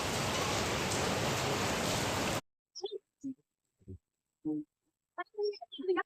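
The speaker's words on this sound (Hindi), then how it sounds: "बाहर जो है इस टाइम बहुत तेज़ बारिश हो रही है" Heavy rain pours outside, a dense, loud, even hiss that fills the first couple of seconds and then cuts off, followed by short bursts of people talking with no rain behind them.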